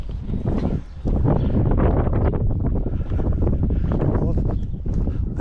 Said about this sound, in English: that north wind is cold